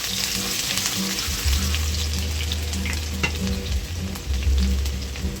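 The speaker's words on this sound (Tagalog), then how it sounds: "Let's saute our lentil and let's start with our ginger." Cooked lentils and ginger sauté in a hot pan, giving a steady, loud sizzle throughout with occasional stirring scrapes and a low hum beneath.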